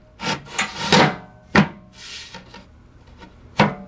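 A 3/4 inch MDF shelf being slid into a router table stand, with several distinct wooden scraping and knocking sounds in short bursts, close and fairly loud, separated by brief pauses.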